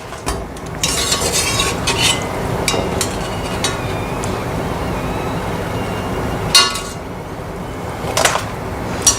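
Pani puri dough rounds fry in hot oil, giving a steady low bubbling hiss close by, broken by occasional sharp clinks of a metal utensil against the pan.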